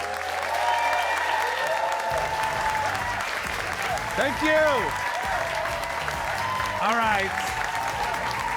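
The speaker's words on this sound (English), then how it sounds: "way over the top applause, way over the top" A studio audience claps and cheers in a sustained wave of applause while someone speaks briefly over it.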